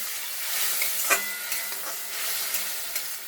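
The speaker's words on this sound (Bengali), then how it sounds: "মশলাটা কষানোর জন্য আমি দিয়ে দেব সামান্য পরিমাণে জল" Spice paste with turmeric and chili powder, loosened with a splash of water, hisses and bubbles steadily in a pan, with faint occasional stirring taps.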